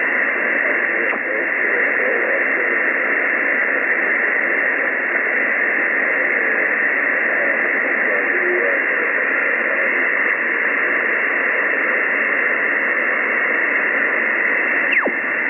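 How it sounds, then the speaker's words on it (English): Shortwave ham radio contact received on an ICOM IC-7300 with a 3-element Mosley beam antenna, the signal fading into a steady, even hiss of band static that fills the whole stretch with no voice coming through. "you faded in the noise, your signal went down"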